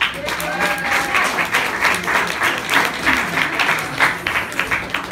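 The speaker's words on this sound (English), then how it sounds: "Please give her a clap." An audience at a storytelling event applauds a woman coming down from her seat, with dense, steady clapping throughout at close range.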